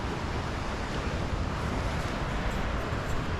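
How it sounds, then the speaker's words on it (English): Water pours out of a dam on the West Branch of the Spanish River in a steady, unbroken rushing roar, broad and constant with no pauses, moderately loud and heard alone. "this dam is putting out some serious water"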